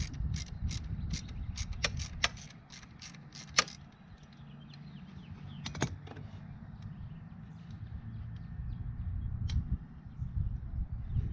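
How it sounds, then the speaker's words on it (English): A 13 mm wrench ratchets in a quick run of close metallic clicks while loosening the oil drain plug on a 2020 TPI 150 engine, then scattered clinks and faint handling noises follow. "So you're gonna need a 13 millimeter, and we're gonna pull this drain plug."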